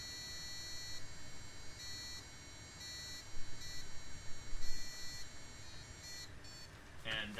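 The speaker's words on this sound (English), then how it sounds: "it's hitting the resonance of the actual buzzer itself" A small electronic buzzer in a laser trip-wire project beeps in a series of tonal notes that repeat at intervals and swell louder at one pitch, with a voice talking underneath.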